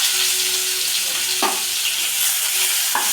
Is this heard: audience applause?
no